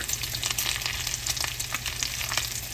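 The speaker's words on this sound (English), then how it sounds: "I do like to flip my bacon a couple of times." Bacon strips frying in a pan, a dense, steady crackle and spitting sizzle with quick popping bursts, close and continuous.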